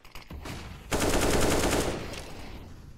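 A few scattered shots in a video game, then a rapid, dense burst of automatic gunfire that rattles on for about a second before fading into echoing noise.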